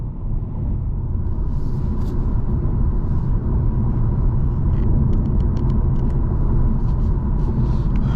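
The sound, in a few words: 2023 Ford Mustang EcoBoost driving on the road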